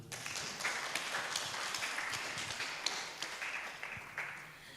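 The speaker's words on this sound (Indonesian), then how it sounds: "Tepuk tangan dulu." Audience clapping at a talk on Madurese tandhâng, a dense, steady patter of many hands filling the room for several seconds with no voice over it.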